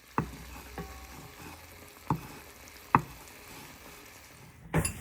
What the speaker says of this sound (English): these short ribs around rather gently and scrape up all these little black pieces.